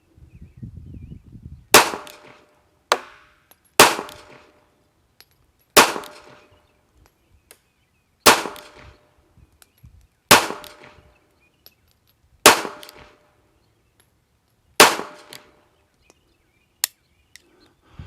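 Eight sharp pistol shots from a Ruger LCP .380 compact handgun at an outdoor range, fired one at a time with roughly two-second gaps, each a loud crack followed by a short ringing decay.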